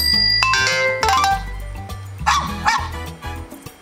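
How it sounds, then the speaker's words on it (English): A phone's text message notification tone plays close and clear, a short sequence of bright tonal sounds heard on its own. "So this is pretty much my text tone."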